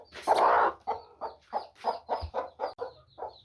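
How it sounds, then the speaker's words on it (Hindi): A hen clucks repeatedly nearby, starting with a longer squawk followed by a rhythmic series of short clucks. "अभी मैं मुर्गी को उठा के बाहर लाऊंगा"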